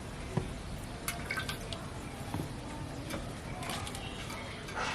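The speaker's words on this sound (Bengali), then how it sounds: "শক্ত জল ঝেড়ে তুলে নিচ্ছি" Water drips and patters from a freshly washed rohu fish as it is lifted and shaken, a handful of irregular close drips and splashes over a faint wet background.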